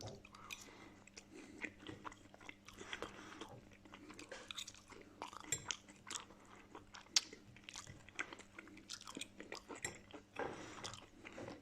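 Crispy fried mushrooms being chewed up close, a steady run of crunching bites and squishy mastication in quiet surroundings.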